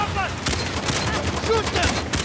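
Gunfire during a firefight in the action game Uncharted: The Lost Legacy, a dense fusillade of overlapping shots cracking rapidly and continuously, with game effects mixed in.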